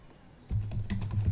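Fast burst of clicky keystrokes on a computer keyboard, close and clear, starting after a brief quiet moment.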